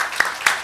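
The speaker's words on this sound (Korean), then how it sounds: "박수로 환영해 주시기 바랍니다" Applause at a business forum as an audience welcomes a game startup founder to the stage, a short, steady wash of clapping heard up close with a couple of louder individual claps.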